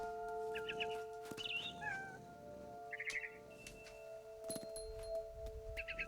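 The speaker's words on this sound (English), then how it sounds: "And suddenly, I was a cat." A cat meows in the video game What Remains of Edith Finch while stalking a barn swallow. Short, faint chirping calls repeat over a quiet ambient background.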